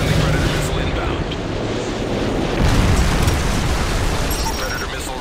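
Predator missile explosion in a first-person shooter video game, a loud, continuous rumbling blast that swells slightly near the middle and holds a dense roar throughout, with game speech mixed in.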